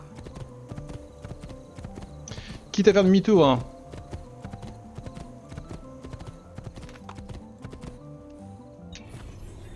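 Horse hooves clatter in Assassin's Creed II, a single brief burst of close clip-clop lasting about a second amid a steady game soundscape, with someone talking in French over it.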